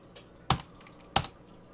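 Computer keyboard keystrokes on an eMachines PC, two isolated sharp clicks about two-thirds of a second apart, close and clear in a quiet room.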